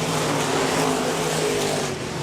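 Stock cars racing around Park Jefferson Speedway, a steady loud roar of engines and no talk.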